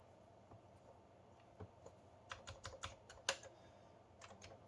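Keys clack on a Commodore 128 keyboard with sticking keys, a few sparse taps at first, then a quick irregular burst of sharp clicks over a faint steady hum, without any voices.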